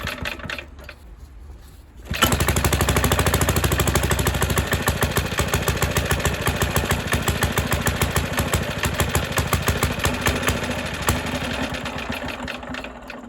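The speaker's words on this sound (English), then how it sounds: "So it wanted the choke on." A Suffolk lawn mower engine bursts into life after about two seconds of quiet, then runs steadily with a fast, even putter, loud and close, settling slightly toward the end.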